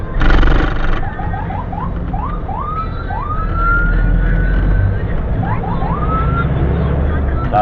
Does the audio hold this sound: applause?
no